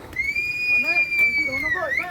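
A long, steady whistle tone held for about two seconds, clear and fairly loud, with people talking underneath it, near a hillside cave temple.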